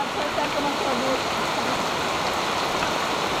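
Steady rain falls on a forested mountain trail at Mt. Makiling, a dense, even hiss of drops throughout.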